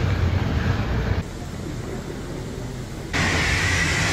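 Pressure-washer water spraying onto a Nissan 300ZX during its first wash, a steady hissing spray that drops to a quieter stretch and then grows louder again as the stream shifts, with no talk.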